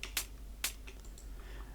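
Solo hi-hat sample from an electronic music remix production, heard as a few short, crisp, bright ticks spaced irregularly over a faint low hum, quiet and close.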